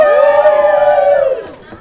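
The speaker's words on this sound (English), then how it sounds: "All right, everybody make some noise." A comedy club audience answers with a single loud, sustained whooping cheer that holds for over a second and then fades, with no other talking.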